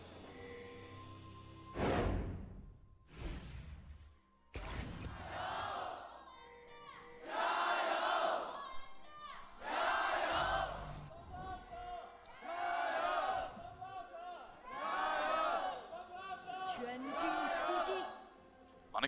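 FPX fans cheer in the Chengdu esports arena during a 2018 LPL Summer Split League of Legends match against OMG, with repeated rising waves of crowd roars and chants, plus commentators talking between bursts.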